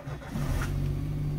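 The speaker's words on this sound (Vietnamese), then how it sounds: "Nổ máy lên cho em." A used Chevrolet Spark small car engine cranks and catches, then settles into a steady close idle hum, with no talking.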